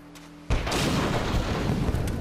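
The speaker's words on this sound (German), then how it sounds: "Eine Explosion." In the war shooter Spec Ops: The Line, a sudden loud explosion booms after a quiet humming background, followed by a sustained rumbling roar of debris and fire.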